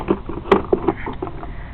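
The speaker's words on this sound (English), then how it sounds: "The way you can test that is just pull this starter rope." A Craftsman leaf blower's starter rope is pulled, giving a few soft, rapid whirring and scraping strokes up close, with the engine turning over against compression in short bursts.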